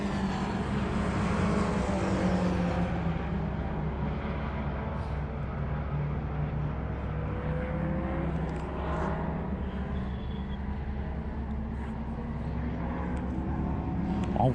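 Caterham 340 race cars lapping the Pau-Arnos circuit, a steady loud engine roar with passing drones that rise and fall continuously throughout, heard from trackside without talk.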